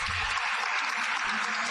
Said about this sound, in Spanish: Aplausos para la ingeniera